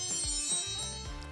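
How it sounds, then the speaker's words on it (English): Phone alarm ringing in a kitchen while sweetbreads cook, a short, faint, bright electronic chime tone repeating over quiet background noise. "And that was my alarm."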